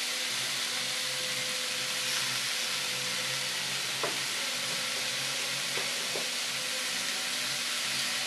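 Chopped tomatoes with spices sizzle steadily in a frying pan of oil, a loud continuous hiss with a few faint clinks of utensils, no talking.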